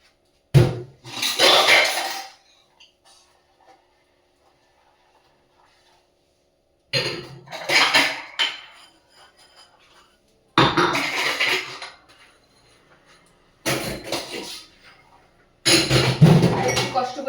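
Tea cups washed by hand under a running tap, with separate bursts of splashing water and clinking china separated by quiet gaps, someone talking in between.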